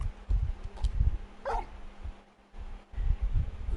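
A large dog whimpers and yips in the game Final Fantasy XVI, a few soft whines among low thumping game sounds, with a brief high whine in the middle.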